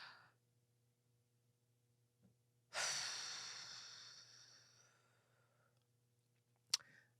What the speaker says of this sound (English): We need to do, what is it, box breathing?